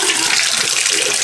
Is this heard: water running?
yes